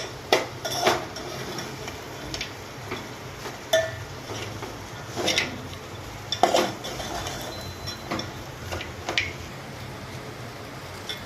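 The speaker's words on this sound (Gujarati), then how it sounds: "શિંગદાણા જે આપણે તળીને રાખેલા છે તે પણ અંદર ઉમેરી દઈશું" Fried peanuts tip into poha and potatoes in a pan and get stirred, with sharp metallic clinks and scrapes of a spoon against the pan at irregular intervals over a faint sizzle.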